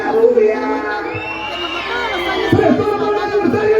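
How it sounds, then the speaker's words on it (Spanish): Fans of Angélica Gómez in a live audience cheer loudly, a dense mix of whoops, high shouts and crowd roar that swells and continues throughout. "Los hinchas de Angélica Gómez, una bulla."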